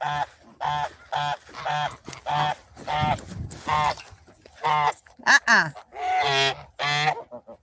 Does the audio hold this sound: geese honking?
yes